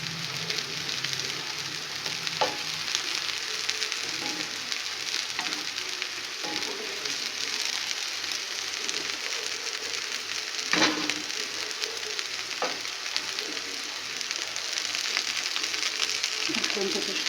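Potatoes frying in butter in a pan, a steady sizzle with occasional scrapes and knocks as they are turned.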